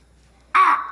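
Raven call: a single harsh, loud caw that bursts in after a quiet moment and holds briefly before fading, heard alone and close.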